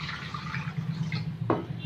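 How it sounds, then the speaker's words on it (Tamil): Water is poured into a pot of fish curry in a steady, soft trickle and splash, fairly faint and close, with no talking. "இப்போ நம்ம இதில் கொஞ்சம் தண்ணி விடலாம்."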